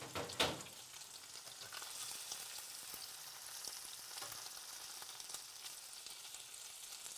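Stuffed meatballs fry in a pan while browning, giving a steady, close sizzle with a soft clatter at the start, then an even crackle throughout.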